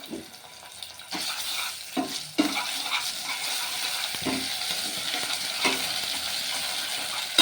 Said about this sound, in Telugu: వేపుకుందామండి ఇట్లా మంచిగా